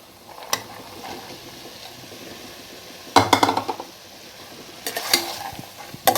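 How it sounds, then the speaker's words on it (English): Roughly 1.5 cups of small-chopped carrot tipped into a pressure cooker pot of vegetable biryani, giving a few short scraping, clattering bursts over a steady low sizzle, close and fairly quiet. "Now adding carrot."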